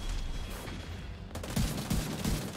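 Rifle fire in The Division 2, a loose burst of shots in the first part giving way to heavier, louder blasts with low thumps, continuous and close.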